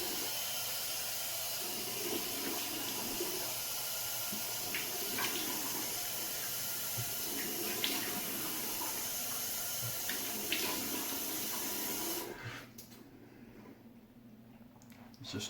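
Cold water runs steadily from a bathroom tap during a shave, a continuous close hiss and splash that cuts off abruptly near the end.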